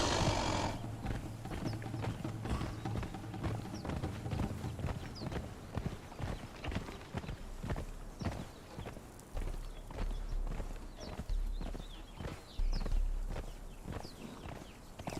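Horse hooves clip-clop steadily in the video game Conan Exiles, a rhythmic run of close, moderately loud hoofbeats with game ambience and an occasional whinny, and no talking over it.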